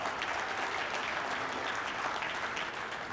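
Continuous applause from a sizable crowd, steady and fairly loud for the whole stretch, with no voices rising above it.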